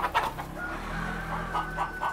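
A brand new mother Wyandotte hen gives soft, repeated clucks close by while guarding her four baby chicks, with a faint steady chirping and a low hum beneath.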